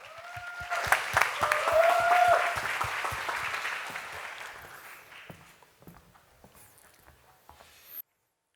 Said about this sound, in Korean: 큰 박수 보내주셔서 감사하겠습니다.